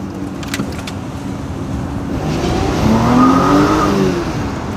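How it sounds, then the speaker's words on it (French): A Porsche Cayenne V6 accelerates from inside the cabin, its engine purring and then rising steadily in pitch and loudness as the revs climb, with a brief tire squeal. "Vous entendez ce petit ronronnement du V6?"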